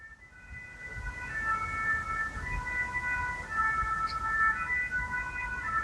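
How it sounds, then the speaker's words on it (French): Ambulance sirens wail through Paris traffic near a hospital, several overlapping two-tone sirens at mid-distance, rising and persisting over a low rumble of city traffic. "on entend les ambulances"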